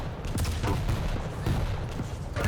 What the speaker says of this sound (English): Good weapon choice and not go for the railgun shot there and just finish it off with a little rapid fire hit scan weapon